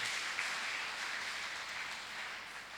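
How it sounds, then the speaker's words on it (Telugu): Quiet, distant clapping from a church congregation praising God during a sermon, a soft, steady wash of many hands that fades slightly toward the end. "చప్పట్లు కొట్టి దేవుని నామాన్ని మహింపరుద్దాం."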